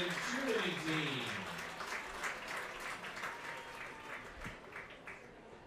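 Crowd applause and cheering for a cheerleading team at a baseball game, a loud burst that gradually fades, with a public-address announcer talking over it.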